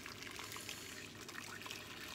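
Broth being poured into a pan while making pumpkin soup, a soft steady trickle and splash of liquid, faint and continuous without talk.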